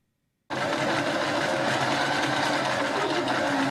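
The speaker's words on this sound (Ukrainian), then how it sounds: "Звук швейних машинок відранку лунає в одному з гуртожитків Черкас, де мешкають переселенці." Several sewing machines run in a dormitory in Cherkasy that houses displaced people, a loud, steady mechanical whir that starts abruptly and continues unbroken with no talking.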